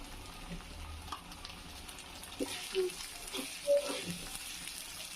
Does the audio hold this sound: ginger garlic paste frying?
yes